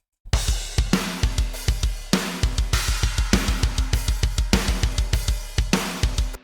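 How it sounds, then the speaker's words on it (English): A steady, simple drum groove with kick, snare and hi-hat in a repeating pattern, played alone at a moderate tempo. "here is a simple drum groove which sounds like this"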